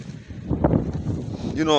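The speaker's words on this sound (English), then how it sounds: "It's very windy." Wind buffets the microphone in low rumbling gusts under a person talking, with a brief whistling tone near the end.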